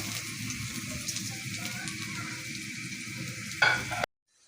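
Onions sizzle steadily in hot oil with a bay leaf for a shrimp, taro and potato curry, a dense close crackle that swells into a brief louder burst near the end before cutting to silence.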